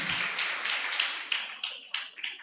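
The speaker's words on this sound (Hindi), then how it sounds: "जो लेकर के आए उनका जोरदार ताली बजा करके स्वागत" A lecture audience claps to welcome attendees who brought notebooks, a dense burst of applause at moderate distance that thins out and fades over a few seconds, with a few louder scattered claps near the end.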